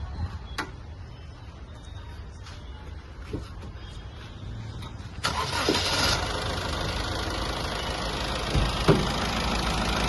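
A 2014 Honda City diesel with manual transmission cranks and catches, then settles into a steady idle after quieter handling noises and clicks at the start.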